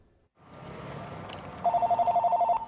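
A telephone rings in a quiet bookstore, Dreamhaven Books and Comics in Minnesota. Faint room tone comes first, then a close, loud, rapid pulsing ring runs for about a second.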